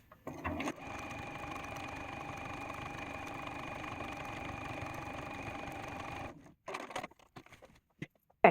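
A sewing machine runs steadily for about six seconds, stitching quilt-as-you-go flag quilt blocks together with wide sashing, a close, even mechanical whir that stops abruptly, followed by a few light handling clicks and knocks.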